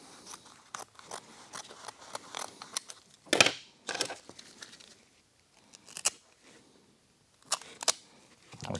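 Scissors trim Alcantara fabric for a BMW interior door panel in a series of crisp, close snips, some single and some in quick pairs, separated by quiet pauses.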